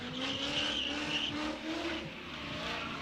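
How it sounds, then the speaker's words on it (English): A drift car skids through the Drift Pit with loud, sustained tire squeal over a straining engine, steady and close for about three seconds with no talk. "I love the sound of that car."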